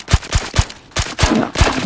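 Gunfire rings out in the first-person shooter Zero Caliber, a rapid string of about eight loud, close shots with short, uneven gaps between them.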